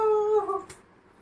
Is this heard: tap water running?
no